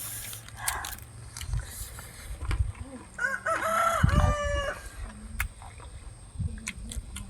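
A rooster crows loudly once in the middle, its drawn-out call standing out over background noise and clattering, with a few brief voices and household sounds before and after.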